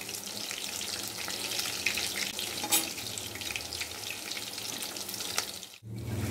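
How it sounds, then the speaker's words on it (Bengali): Soybean pakoras fry slowly in oil over medium heat, a steady close bubbling sizzle with a brief clink partway through and a short dip before the frying resumes, no speech. "পকোড়াগুলো খুব আস্তে মিডিয়ামে দিয়ে ভাজতে হবে।"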